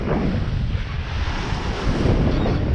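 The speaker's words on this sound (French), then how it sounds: "Bon alizé, bien établi à 20 nœuds" Steady trade wind at about 20 knots rushing over a sailing boat leaving Saint Lucia for Martinique, a loud continuous roar of wind buffeting the microphone with the wash of the sea beneath, no voices.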